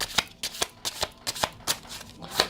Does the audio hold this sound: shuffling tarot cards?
yes